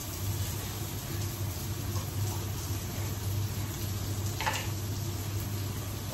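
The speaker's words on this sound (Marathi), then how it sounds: "कांदा इथे परतून घेते" Onion sautéing in a pan on a home stove, a steady soft sizzle with a low background hum running throughout, no voices.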